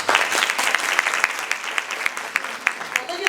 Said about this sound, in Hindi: अपने लिए ताली बजाओ पहले तो।